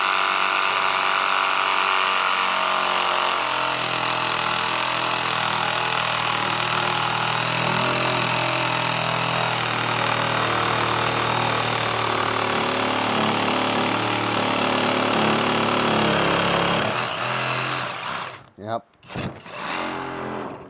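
A Skil cordless jigsaw cutting a hole through a tabletop drones with a steady, loud motorized whine for many seconds, then cuts off abruptly, followed by a few sharp knocks and rattles.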